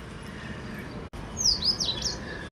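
A bird outdoors gives a short burst of bright, high chirps and tweets over a steady broadband background, fairly close and clear, with no talking.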